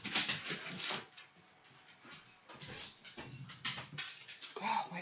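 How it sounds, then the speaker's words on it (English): A dog whimpers and pants in a home, short whiny bursts and breathy sounds, close by and fairly quiet, with someone talking over it at times. "Oh, my son's dog is so bad."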